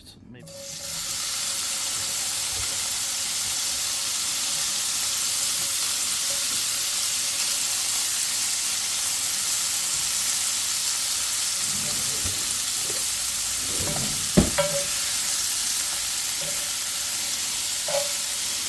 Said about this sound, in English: I'm going to toss in the bacon. I want to render the fat out on it.